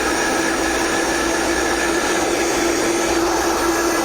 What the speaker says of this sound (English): We'll slowly bring it up to medium-high.